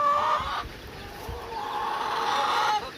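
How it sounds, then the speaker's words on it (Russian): Chickens out in their run during stormy weather, with a few drawn-out clucks and calls that sound close and fairly loud over steady background wind noise. "А куры пока на выгуле."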